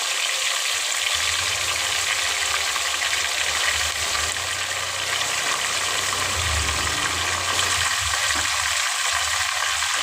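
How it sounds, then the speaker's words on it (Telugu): Mutton dropped into hot oil for a gravy curry, a loud, dense, continuous sizzle and hiss that holds steady throughout, close to the pan with no talking. "ఆయిల్ అయితే వచ్చి వేడైంది ఇంకా మటన్ వేసేసి"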